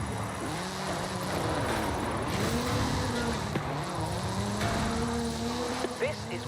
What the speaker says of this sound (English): is Mr. Kenneth Block's Hoonigan Gymkhana 10 Ford Focus RS RX. 2-litre, turbocharged, front-mounted engine and all-wheel drive.